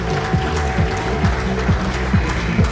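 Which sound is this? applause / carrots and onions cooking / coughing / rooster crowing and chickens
applause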